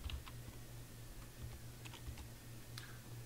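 Keys on a computer keyboard are tapped during spreadsheet work, a few light, scattered clicks in short bursts over a low steady hum, close and fairly quiet.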